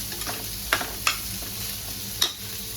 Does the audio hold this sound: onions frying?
yes